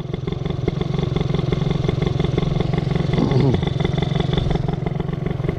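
A scooter on a road, its engine a steady mid-pitched drone that swells slightly as it passes nearby, continuous and fairly loud throughout with no speech.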